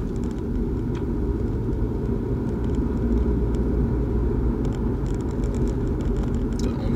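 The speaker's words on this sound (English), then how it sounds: "That hum, I'm not sure if that's the engine and that sort of struggling." Steady low engine hum and rumble inside a Nissan Altima, continuous and even throughout with faint higher ticks on top.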